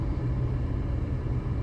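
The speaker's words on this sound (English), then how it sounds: "And it's traffic. It's that rush hour traffic." Rush hour road traffic forms a steady, close, low rumble of engines and tires, constant and fairly loud, with no talking.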